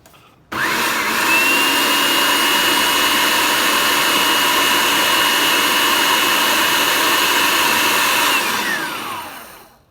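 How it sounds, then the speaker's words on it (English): A food processor blending salsa switches on abruptly into a loud, steady whirring whine that holds constant for several seconds, then winds down as the motor cuts off. "I have everything in the food processor, and now we're just going to post this until it gets to the consistency"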